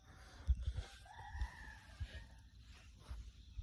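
At dawn outdoors, a rooster crows faintly in the distance, one drawn-out call rising over a quiet background with a few low soft bumps nearby.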